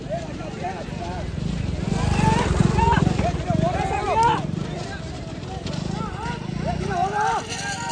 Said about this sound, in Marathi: आल्या बघा बैलगाड्या इकडनं